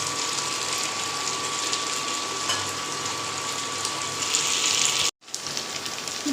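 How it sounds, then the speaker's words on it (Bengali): Warm water pours into a pan of chicken curry, making a continuous gushing splash close by that cuts off abruptly near the end, then a faint bubbling follows, with no speech. "কিছুটা উষ্ণ গরম জল এতে আমি অ্যাড করছি।"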